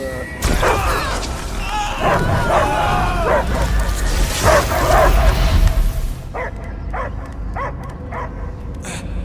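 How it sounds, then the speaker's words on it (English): A dog barks and yelps repeatedly amid loud effects and rumbling in the video game Marvel's Guardians of the Galaxy, then a run of sharper, evenly spaced barks sounds more clearly on its own. "I hear only barking."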